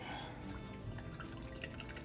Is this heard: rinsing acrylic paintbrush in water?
yes